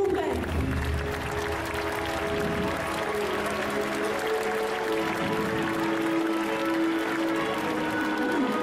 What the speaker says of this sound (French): je vais vous demander d'applaudir très très fort Bella Dela, Kosifani, Faël,